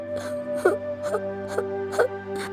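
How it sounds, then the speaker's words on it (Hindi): A cartoon woman, a voice coming from a bleeding bamboo stalk, cries in about five rhythmic sobbing whimpers over a steady musical drone. "उन लोगों को किसी औरत के रोने की आवाज आने लगी।"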